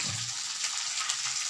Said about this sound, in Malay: Sambil goreng daging.